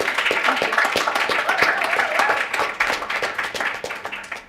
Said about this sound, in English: let's welcome Myisha with a warm applause